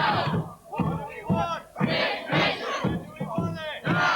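A crowd of roughly 1,500 to 2,000 protesters gathers at Euston, a dense, continuous roar of many voices with shouts and yells swelling and falling in waves, close and loud throughout.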